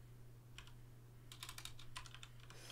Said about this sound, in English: type in the right password